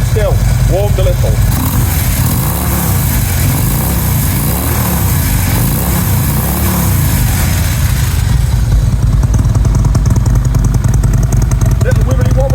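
A Harley Electraglide fitted with Vance & Hines Monster Ovals exhaust idling after a short warm-up, a loud, close, continuous engine rumble with a slight uneven wobble, while someone talks over it.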